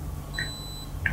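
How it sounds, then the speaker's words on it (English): Univiso Spark live streaming device gives two short electronic beeps on startup, one early and one near the end, faint against a quiet room hum. "long press and you will hear a beep"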